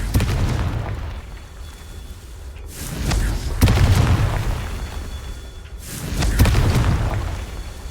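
Confringo and Bombarda spell blasts from the Hogwarts Legacy video game boom out in a series of loud explosions, each a heavy low burst that rolls away before the next one hits.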